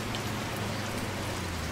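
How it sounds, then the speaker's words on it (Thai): Heavy rain in the truck-driving game The Slaverian Trucker, a dense, unbroken hiss of downpour drumming on surfaces close by, with no voices. "โอ้โหฝนก็ตกหนักทั้งวันเลยว่ะ"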